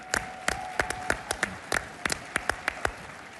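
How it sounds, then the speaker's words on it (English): Sparse, uneven clapping from a conference audience at CPAC in Maryland, a dozen or so sharp claps scattered across a few seconds at moderate distance, with no voices over it. "Give yourselves a round of applause."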